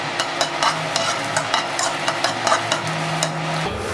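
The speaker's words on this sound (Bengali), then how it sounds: "রসুন আর কাঁচা লঙ্কা একসঙ্গেই ফ্রাই করব, কিন্তু এখন তেল দেব না" Green chillies and garlic dry-fry on a hot tawa with no oil, giving repeated scraping stir strokes over a soft steady sizzle, fairly close, with a low hum underneath.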